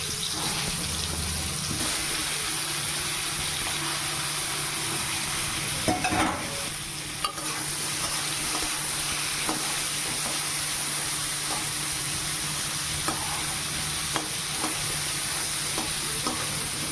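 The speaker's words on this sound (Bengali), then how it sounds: "ওইদিকে পটল ভাজা হচ্ছে" Pointed gourd (potol) slices frying in a wok, a steady hissing sizzle held throughout with occasional clinks and scrapes, faint background noise and no talk.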